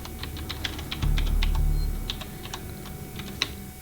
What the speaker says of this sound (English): mashing buttons on the keyboard.